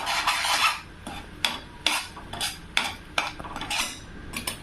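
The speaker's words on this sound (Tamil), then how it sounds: "சேர்த்து நல்லா கலரலாங்க." A spoon stirs poha laddu mixture in a pan, producing repeated rhythmic scraping and rubbing strokes against the metal, close and fairly loud, with no voices.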